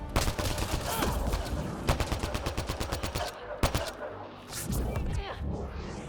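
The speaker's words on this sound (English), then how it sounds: "Who's shooting at me?" Gunfire in Mass Effect: Andromeda comes as rapid automatic bursts, a rattling string of close, sharp shots with a few louder single cracks. A player's voice is heard briefly in the game noise.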